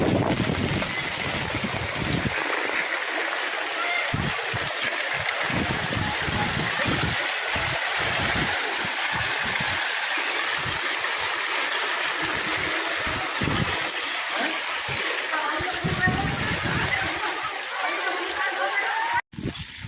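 Steady rushing floodwater from heavy rain flows continuously and loudly, with broadband noise and some wind buffeting throughout, ending in a sudden short knock.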